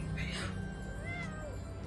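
A cat gives a short, faint meow in the background while people talk over it indoors.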